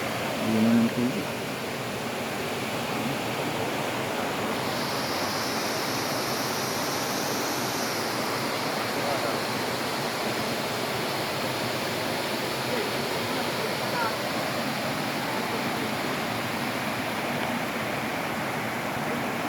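Gabur-Gabur Falls in Cagayan pours with a constant broad rushing roar of water, steady and fairly close throughout, with a brief voice at the start.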